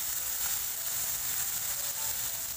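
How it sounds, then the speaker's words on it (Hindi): Cauliflower florets and a garlic-ginger masala paste fry in a pan for gobhi sabzi, giving a steady, dense sizzle that stays even and close throughout with no talking. "एक तरफ फूल भी पक रहे हैं और दूसरी तरफ मसाला भी भून रहा है"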